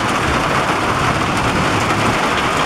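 Heavy rain from a monster thunderstorm pours down steadily and loudly, a dense, unbroken wash of noise with a low rumble underneath and no voices.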